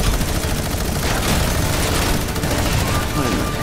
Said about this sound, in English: Legendary lasers!